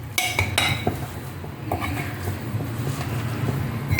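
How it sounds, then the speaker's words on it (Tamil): Cooked greens are turned over in a pan with tongs, bright metallic clinks and scrapes against the pan over a low background sizzle, close up. "அதை அப்படி வச்சுன்னு கிடுக்கி வச்சுக்கிட்டு இப்படி பெரட்டி விடுவோம்"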